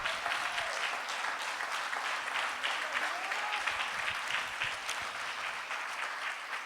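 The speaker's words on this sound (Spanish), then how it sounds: "¿Quiere dar un aplauso al Señor?" A church congregation applauds during a sermon, sustained dense clapping from many hands that stays even and moderately loud throughout, with no talking over it.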